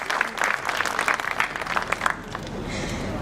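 Lively audience applause at a Tata Technologies innovation event greets a guest from Tata Motors, with closely spaced claps that swell and ease across three seconds.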